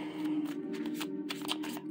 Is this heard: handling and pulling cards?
yes